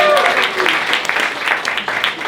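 Comedy club audience applauding steadily for a volunteer during a stand-up set, a dense, continuous wash of clapping at close range that holds for the full stretch without talk over it.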